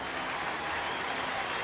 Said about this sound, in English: Big cheer for Tim Hudson, who departs with a 1-run lead now.